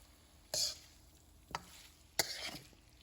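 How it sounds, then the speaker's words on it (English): A spoon stirs vegan pasta with sauce and sausages in a pan, making three brief, separate scraping swishes over a quiet background. "Just keep stirring, keep stirring until it's evenly coated"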